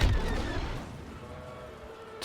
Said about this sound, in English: Bombers are making their attack run now.